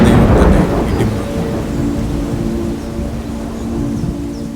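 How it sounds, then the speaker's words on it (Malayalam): Thunder rolls in with a heavy rumble that is strongest at the start, then settles into a steady, broad roar that continues to the end, loud and enveloping, with no voices present. "പെരുവെള്ളത്തിൻ മീതെ യഹോവ, മഹത്വത്തിന്റെ ദൈവം തന്നെ ഇടിമുഴക്കുന്നു."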